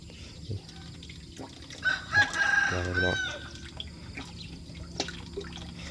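A rooster crows once, loud and nearby, with a few soft clucks and scattered background noises around it.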